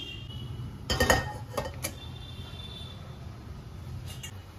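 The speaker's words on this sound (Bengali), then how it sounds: "এবার আমার কড়াইটা বসিয়ে দিচ্ছি" A metal kadai is set down on a kitchen stove with a cluster of close clanks and clinks, followed by a few lighter taps and then quiet.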